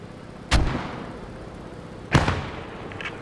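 Two artillery shells burst in the video game Post Scriptum, each a heavy, booming impact about a second and a half apart, with rumbling decay and low battlefield background between them.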